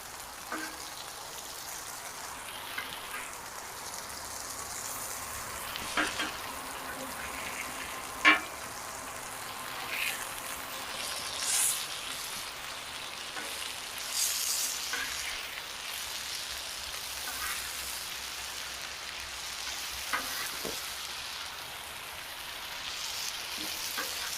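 Jalapeño black and blue sliders frying on a hot cooking surface, a steady soft sizzle with a few sharper pops and crackles, continuous and fairly quiet.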